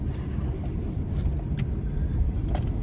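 A truck engine runs steadily as a low, continuous rumble from inside the cab, with faint small clicks and knocks on top and no talking.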